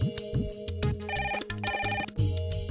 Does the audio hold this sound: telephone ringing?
yes